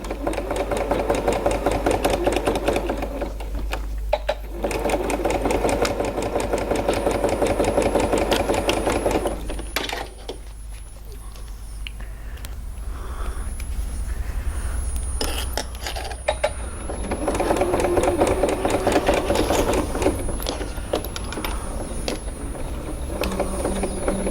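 A sewing machine stitches a seam on a fabric face mask, running in long, steady, loud bursts with a brief pause midway and a softer stretch before it speeds up again.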